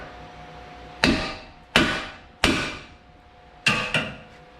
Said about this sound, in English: Once your nuts are off, you will smack with a hammer right here.